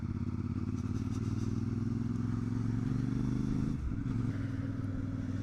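A CF Moto 450MT motorcycle rides along with a steady, loud engine drone and rumbling wind noise. There is a brief dip in pitch near the end, no voices.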